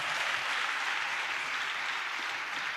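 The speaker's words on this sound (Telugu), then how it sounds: "చప్పట్లు కొడుతూ స్తోత్రాలు చెప్దాం" A church congregation claps together in praise, a dense, steady wash of many hands held at an even level throughout with no speech over it.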